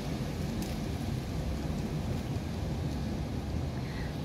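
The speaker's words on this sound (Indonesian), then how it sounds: "mulai kencang lagi anginnya angin disertai hujan" Strong wind and rain in a Hong Kong storm make a steady, dense roar of rushing noise that continues without a break.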